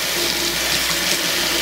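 Hot water runs steadily from a kitchen sink tap, a continuous close splashing hiss that stays even throughout with no talking.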